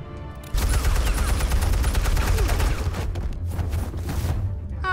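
Dense, continuous volley of gunfire from a Batman video game, starting abruptly after a short lead-in and holding loud and steady, with booms mixed into the barrage.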